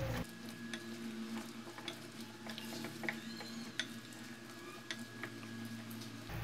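Sesame coconut cake batter being stirred in a bowl, a soft continuous scraping and patter with small clicks, close and fairly quiet over a steady low hum, with no talk.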